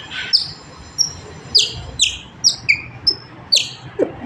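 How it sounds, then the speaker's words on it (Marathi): House sparrows chirping: a series of about eight short, bright chirps spaced irregularly over a few seconds, fairly close, over a faint low background rumble. "हा चिमणीचा आवाज का?"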